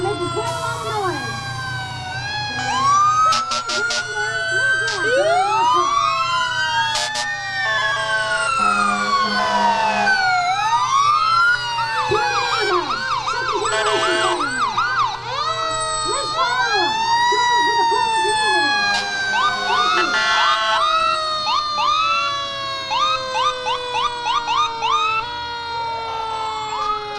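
Several emergency sirens from a rescue truck in a St. Patrick's Day parade in Buchanan wail loudly at once, rising and falling with overlapping horn blasts, continuous and close throughout.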